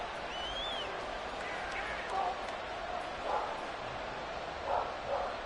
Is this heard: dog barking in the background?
yes